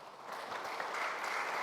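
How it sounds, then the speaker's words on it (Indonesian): A church congregation at an Easter service in Tokyo applauds, a short burst of crowd clapping that rises quickly and stays steady and fairly loud to the end. "Berikan tepuk tangan buat Tuhan"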